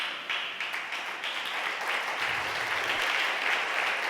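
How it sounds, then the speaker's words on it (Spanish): A church congregation at Iglesia de Sardis breaks into sustained applause, many hands clapping in a dense, even patter that swells slightly toward the end with no voices over it. "Dele aplauso, alabe al Señor."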